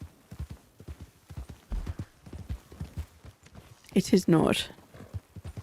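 Horse hooves clip-clop at a steady walking pace in the Red Dead video game, with a louder burst near the end that may be a whinny, all under ongoing talk.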